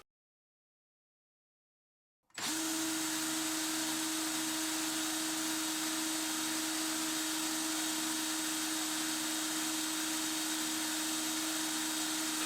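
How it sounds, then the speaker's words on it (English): Silence, then a 12-volt electric drill abruptly starts driving a dynamo on a bench, running steadily with a loud, constant whine and buzzing hum. "To drive the generator on the bench, I'm using a 12-volt electric drill."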